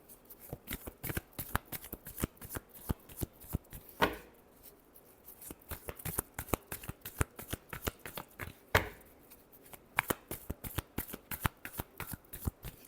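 Tarot cards are shuffled by hand at close range, giving a long run of crisp, rapid riffling snaps in an uneven rhythm, with two brief pauses along the way.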